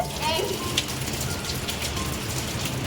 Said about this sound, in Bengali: আজকে বিকেল থেকেই বৃষ্টি নেমেছে